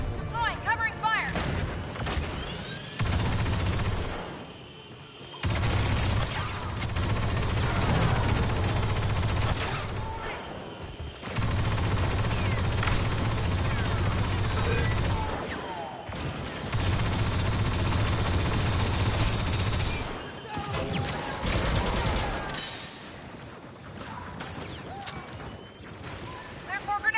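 Blaster and gunfire in Star Wars Battlefront 2, rapid bursts and booming volleys in long stretches broken by short lulls, loud and close, with voices talking intermittently over the combat.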